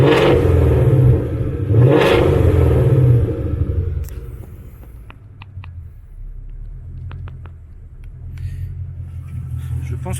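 Ford Mustang engine with its exhaust valve open, revving hard twice with loud, deep roaring blips, then dropping to a throbbing idle rumble, close by, a voice speaking briefly between revs.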